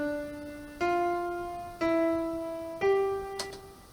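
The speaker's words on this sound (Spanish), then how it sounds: "Ese es el sonido de un intervalo de tercera menor." Three sustained tones, each sounded alone and close, played one after another about a second apart to show a minor third interval from the diatonic scale, each one fading slowly, with no talking.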